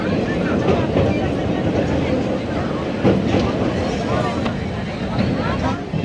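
A passenger train on the Howrah to Digha line crossing the Haldi river in pouring rain, giving a steady, dense rumble and rattle with faint clatter throughout, moderately loud and close, with no voices.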